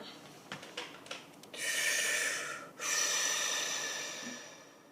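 A person draws a long, deep breath in, a steady airy rush lasting about a second, then a brief pause and a second long breath, close and alone after a few faint taps.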